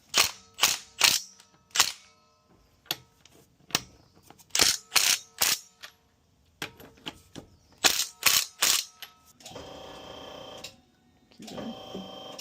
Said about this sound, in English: First step is to loosen the lug nuts.